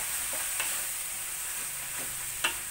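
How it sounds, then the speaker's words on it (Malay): Spice paste with curry powder stirred and sautéing in oil in a pan for fish curry, a steady soft sizzle with faint scraping stirs, close and continuous, no talk. "Tumis bahan ni, tumis sampai dia betul-betul masak."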